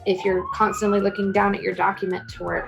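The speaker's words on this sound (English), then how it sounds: "Sorry about the sirens in the background." A siren wails in the background, its rising and falling tone running under a person talking steadily in the foreground.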